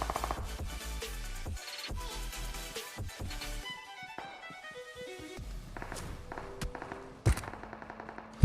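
Gunfire from a battle royale video game, including a Kar98 rifle shot, comes as rapid bursts of shots and sharp single reports in bursts, mixed with game sounds and footsteps. No talking.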